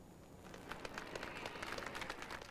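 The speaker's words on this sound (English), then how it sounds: "Applause greeted Martin O'Malley and his family when they appeared on the balcony of City Hall" Applause for Martin O'Malley and his family as they appear on the City Hall balcony, a steady wash of many hands clapping at moderate distance, continuous throughout with no voices standing out.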